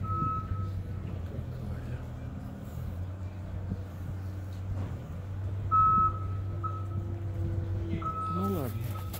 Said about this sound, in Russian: Шумит какая-то техника строительная.